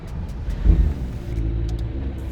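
A McLaren P1 running in E mode gives a smooth, low rumble with a brief swell near the start. It stays steady and fairly quiet underneath, with no talk.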